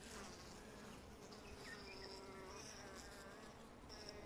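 Honey bees buzz softly and continuously around a hive, a faint, steady drone with scattered higher whines as individual bees pass close.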